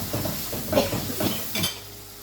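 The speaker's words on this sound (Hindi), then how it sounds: "अच्छी तरह से टमाटर जो है ना चमचे के साथ और मैश कर लें" A spoon scrapes and presses tomato masala in a cooking pan for a few quick strokes, with soft metallic clinks and a faint sizzle underneath, close and fairly quiet.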